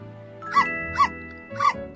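Three short, bright barks from a dog in the video game My Time at Portia, evenly spaced over background game music.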